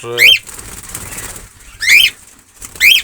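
Several close bursts of wing flapping as a cockatiel is released from the hand, three quick loud flurries separated by quieter gaps, with faint chirps mixed in.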